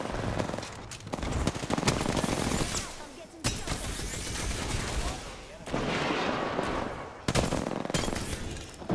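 Rapid automatic gunfire and scattered shots fill a round of the video game Apex Legends on Xbox One, coming in dense bursts separated by short gaps, loud and close.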